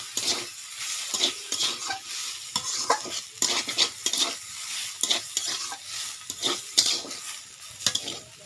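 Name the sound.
mixing note greens raita with a spatula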